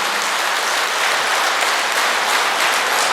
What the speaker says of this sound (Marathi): पत्नी ह्या डोनरसाठी अशाच जोरात टाळ्या वाजवा